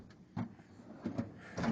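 A tool drawer in a tool box slides open in a few short rattling pushes, quiet and close, with small clunks of metal tools shifting inside.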